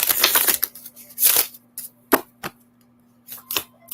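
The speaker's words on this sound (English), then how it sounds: "One more shuffle." Oracle cards being shuffled close up: a run of riffling flutters followed by a few sharp, separate taps as the deck is squared.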